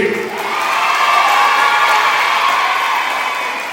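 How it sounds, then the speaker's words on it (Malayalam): A large gathering bursts into sustained cheering and applause for a program coordinator, building quickly into a loud, continuous crowd roar with shouts and whoops that holds steady before easing slightly at the end. "ഒരു വലിയ കയ്യടി"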